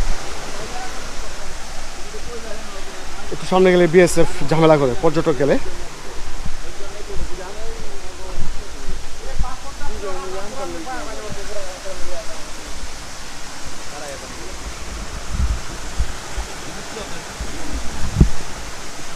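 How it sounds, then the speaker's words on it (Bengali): Rajai waterfall in a hilly border area, a continuous broadband rush of falling water heard nearby, with someone talking over it and a brief motor-like burst early on. "রাজাই ঝর্ণা ওই সামনে"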